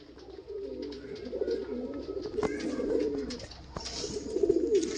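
Large pigeons kept for sale coo in repeated low, throaty rolling phrases, close by, with light rustling and small clicks from the birds in the background.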